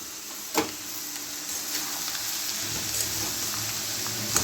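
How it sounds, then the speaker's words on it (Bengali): Ridge gourd frying with potatoes in a pan on high heat for a Bengali jhinge posto dish, a continuous close sizzle with a few stirring clinks and no talk. "এবার আমি ঝিঙেটা দিয়ে দেবো ঝিঙেটা একটু ভালো করে ভাজা হয়ে গেলে"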